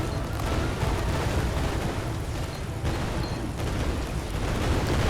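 Continuous roaring flamethrower fire mixed with dense, rumbling explosions in the game Greedland, loud and relentless with no pauses.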